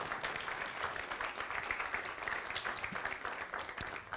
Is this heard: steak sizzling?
no